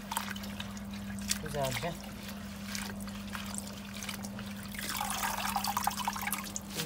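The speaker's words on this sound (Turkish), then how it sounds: "birkaç kat olmak üzere yıkayalım ki dışının tozundan kurtulsunlar" Fresh mint leaves being washed in water, with a steady trickle and splashing that swells toward the end, while a person talks over it.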